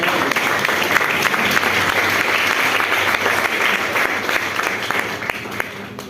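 A church congregation applauding during worship, dense sustained clapping from many hands at close range, with a faint murmur of voices mixed in.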